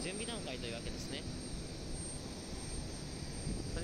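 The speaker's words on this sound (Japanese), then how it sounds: "ブッシュバックし終わった後にこのように大きな音が出まして、エンジンは本格始動し始めます" Airliner jet engines spool up to a loud, steady roar after pushback at Itami Airport in Osaka, a continuous broadband rumble with a high whine on top, and talk runs underneath.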